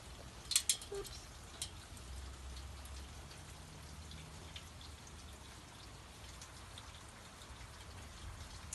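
Rain falling outdoors, a soft, steady patter of drops at low level throughout, with a few sharper taps and knocks near the start, no speech.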